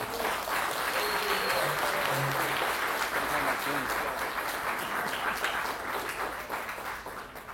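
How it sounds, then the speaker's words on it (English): Audience at a Bronx Week event gives sustained applause, a dense wash of clapping that holds steady and slowly tapers, with voices talking beneath it. "a strong round of applause"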